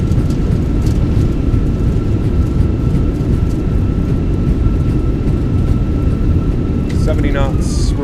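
Airliner in Microsoft Flight Simulator 2024 landing at San Francisco with thrust reversers deployed, a loud steady low roar of engines and rushing wind as it decelerates, with a faint tone and a brief mechanical rattle near the end.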